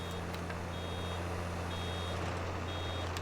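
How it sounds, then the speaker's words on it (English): A warning alarm beeps during bale unloading in Farming Simulator 22. Short, regular high beeps repeat over a steady low vehicle engine hum, with no talk. "Stop when you hear the alarm."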